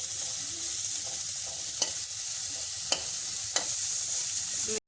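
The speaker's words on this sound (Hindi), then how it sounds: "हमने थोड़ा सा तेल डाल के और उसमें वेजिटेबल जो है वो सौटे कर रहे हैं" Vegetables sauté in a little oil in a frying pan with a steady hiss, broken by three faint tapping stirs, and the sound cuts off abruptly at the end.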